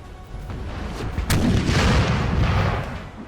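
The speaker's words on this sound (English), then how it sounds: "these are howitzers, so they're lobbing their cannonballs over friendly forces to hit the enemy" Howitzer artillery in the Napoleon Total War game lobs cannonballs, heard as a dense rumble of distant booms with a sharper crack near the middle, continuous battle noise throughout.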